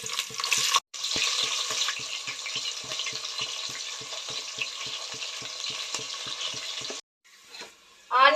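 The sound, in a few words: frying onions in a pan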